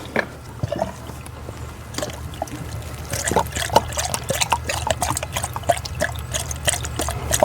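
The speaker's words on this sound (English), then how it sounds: "we're gonna fill our cooling system also from the upper radiator hose" Coolant pouring into the upper radiator hose of a Saturn Sky cooling system, a steady liquid trickle and dribble close by, growing fuller and more splashy partway through, with no talk.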